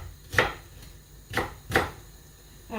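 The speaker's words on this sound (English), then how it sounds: "two onions in slices" Onion slices being cut with a kitchen knife, three distinct sharp chops spaced irregularly, close and fairly loud against quiet surroundings.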